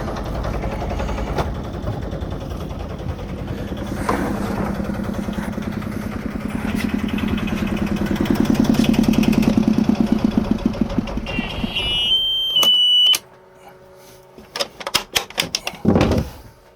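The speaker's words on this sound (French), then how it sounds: "on va couper le moteur" A sailboat's engine idles with a steady low mechanical chug, then cuts out, leaving a few faint clicks and knocks.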